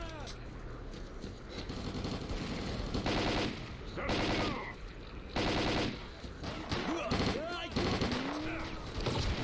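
Mercenaries trade bursts of automatic gunfire in the S.T.A.L.K.E.R. Clear Sky shooter, with loud, dense volleys rattling in repeated waves and brief lulls between them, partly under a talking voice.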